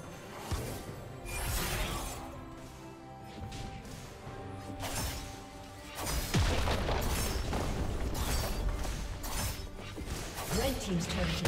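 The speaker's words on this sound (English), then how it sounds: "Red team's turret has been destroyed." A League of Legends turret is destroyed mid-match: booming crashes and shattering debris swell over layered game music, with a heavy rumbling burst around the midpoint and dense, continuous loud effects to the end.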